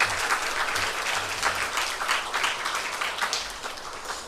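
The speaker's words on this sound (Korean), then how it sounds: "감사의 박수 하겠습니다." A chapel audience gives sustained, steady applause for the choir and the string players who accompanied them. Dense clapping fills the whole stretch at an even level, with no voices rising above it.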